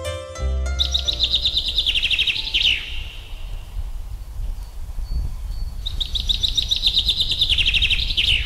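Alario siskins, also called black-headed canaries, give bright rapid chirping trills in two loud bursts separated by a quieter gap, close up over a steady low background hum.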